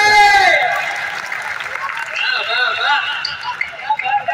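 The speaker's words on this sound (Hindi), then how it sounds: "इधर वाले बहुत बढ़िया ताली बजा रहे हैं" Audience applause at a large Hindi comedy poetry gathering held at a temple, a steady patter of clapping running throughout beneath a man's loud, continuous talk.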